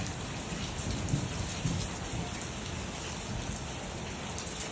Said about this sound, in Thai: ฝนลงพอดี